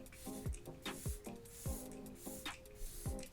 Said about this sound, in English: give that a very good shake and then spray onto the skin